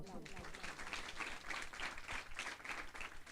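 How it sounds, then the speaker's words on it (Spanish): Warm applause from an audience at an institutional cultural forum, a steady patter of many hands clapping, heard fairly faint and at a distance, with no sign of it fading. "Reciban un caluroso aplauso."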